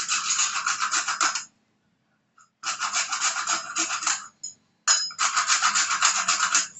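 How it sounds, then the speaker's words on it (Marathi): Nutmeg grated by hand for a wheat-flour prasad sweet: three bursts of close, steady scraping strokes with brief pauses between them, no talking. "जायफळ पण किसून घेते"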